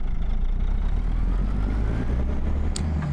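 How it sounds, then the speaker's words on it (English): A Caterpillar 3406 diesel in a Peterbilt 379 from American Truck Simulator, hauling a reefer trailer, runs steadily with a deep, loud, continuous rumble and a faint whine above it, no voices present. "So we got the 3406 here with Dom's truck, and see how the sounds are"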